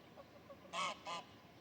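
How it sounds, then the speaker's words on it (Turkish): Two loud goose honks in quick succession, harsh and nasal, against a quiet outdoor background near Pamukkale, Denizli. "Büyük bir ihtimal bunlar kaz galiba."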